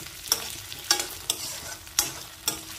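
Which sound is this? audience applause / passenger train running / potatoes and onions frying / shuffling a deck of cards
potatoes and onions frying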